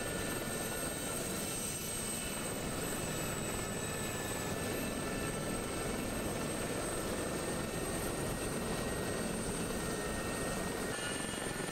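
Gazelle helicopter in DCS World flying low over the Sinai, a steady, loud rotor and turbine drone with a high whine holding throughout, no voices.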